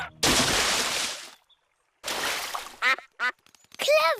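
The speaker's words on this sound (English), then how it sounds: "What was that big splash?" In a cartoon, something hits a duck pond with a big splash, a loud rushing burst that is followed by a second wash of water and then several sharp duck quacks.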